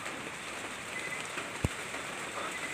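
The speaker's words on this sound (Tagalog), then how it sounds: "Lakas ng ulan." Heavy nighttime rain pours in a continuous, even hiss of drops on nearby surfaces, broken once by a single sharp knock or thud near the middle, with no voices.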